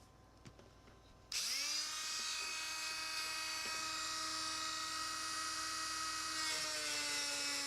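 A Dremel rotary tool fitted with a paper disc spins up abruptly and cuts an acrylic rod, a loud, steady high-pitched whine holding without a break after a quiet start.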